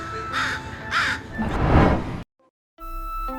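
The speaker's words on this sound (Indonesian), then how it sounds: "para burung gagak masih juga meneriakinya" Crows caw in a few harsh, rasping calls, fairly near, before the sound cuts to silence and a brief musical tone follows.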